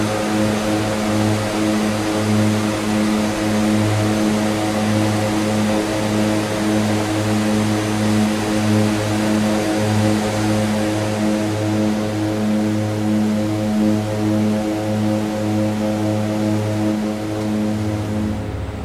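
The engines of an Aerosoft Twin Otter DHC-6 in Microsoft Flight Simulator drone loudly and steadily, a continuous turboprop hum with a layered low tone and airy whine that stays even throughout, with no talking.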